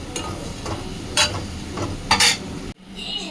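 Spice masala of ginger, garlic, turmeric, chilli and cumin frying in a pan, a steady sizzle with a few stirring scrapes and louder bursts, cutting off abruptly near the end.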